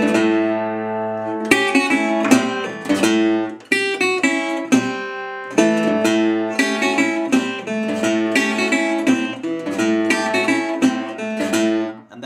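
Acoustic Delta blues guitar: a ringing open chord with a sustained bent note, then a rhythmic bass-string lick, played solo, close and steady with no talking.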